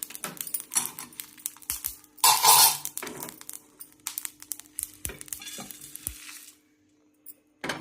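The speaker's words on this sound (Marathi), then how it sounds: "आता चटचट आवाज यायला मी गॅस बंद करते." Intermittent crackling and spattering from a hot pan while making gongura chutney, irregular bursts with brief quiet gaps and a faint metallic clink.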